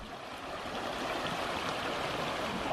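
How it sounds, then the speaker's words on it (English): A small beck runs beside a river on a ramble near Easedale Tarn, a steady, even rush of flowing water heard close by with no voices. "So we've just stopped by the river now, just by this little beck"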